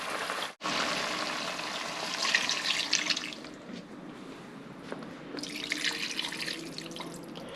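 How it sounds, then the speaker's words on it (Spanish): Water poured over dried chilies in a cooking pot, a steady close splashing and trickling that runs continuously, briefly cutting out near the start and shifting to a lighter flow partway through. "Vamos a ponerle más agua."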